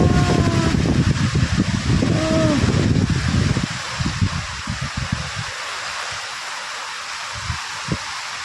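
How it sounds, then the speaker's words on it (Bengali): Strong gusty wind at the start of a storm buffets the microphone in loud rushing bursts for the first few seconds, then settles into a softer steady whoosh, with a person exclaiming over it at the beginning. "ও কি হাওয়া!"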